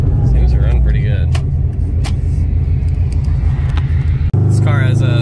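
A turbocharged Subaru engine with a 15G or 16G turbo, run after sitting for a year, idles with a steady, throbbing rumble close to the microphone, a brief dropout near the end, then the running engine resumes.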